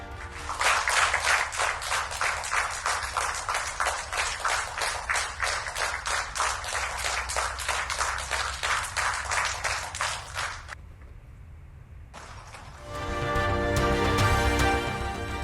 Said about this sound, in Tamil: எழுந்து நின்று கைத்தட்டியும் மேசைகளில் ஒலி எழுப்பியும் வாழ்த்து தெரிவித்த